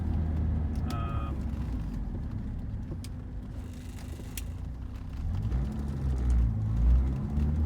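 A 1987 Porsche 944 cruises smoothly on the road, a steady low engine rumble and tyre roar with faint whirring, swelling slightly toward the end.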